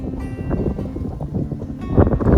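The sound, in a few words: wind at a mountain summit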